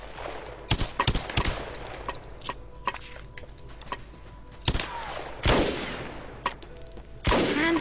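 Loud, punchy hand cannon gunshots in the video game Lara Croft and the Temple of Osiris fire in an irregular series, some single and some doubled, over a busy background of game noise.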